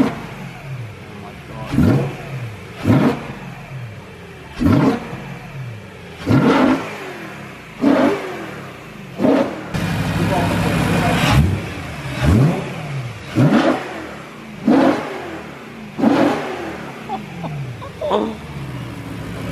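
A BMW E92 M3 V8 fitted with a new intake and carbon plenum kit is blipped repeatedly, about a dozen sharp revs with a longer sustained rev midway, loud and close, each one falling away quickly.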